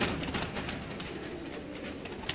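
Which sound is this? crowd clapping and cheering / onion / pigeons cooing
pigeons cooing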